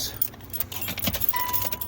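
Car keys jangle at the ignition of a 2006 Nissan Sentra 1.8, a close, bright metallic rattle with a steady low background hum and no talking.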